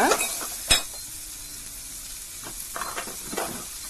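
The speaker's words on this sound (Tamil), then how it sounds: "அடுத்து நம்ம தட்டி வச்சிருக்கக்கூடிய வெங்காயம் இதை போட்டு நல்லா வதக்கி" Crushed onion sautéing in oil with bay leaf, star anise and fennel for prawn masala gravy, a close, bright sizzle with a sharp initial clatter and a few stirring scrapes.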